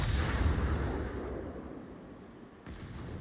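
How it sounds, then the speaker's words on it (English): A World of Warships heavy cruiser, the USS Rochester with nine 203 mm guns in three turrets, fires a full volley: one big booming blast that rumbles and decays, then a sharp second report near the end, with no talk. "We'll continue to volley some more up there, see what we can do."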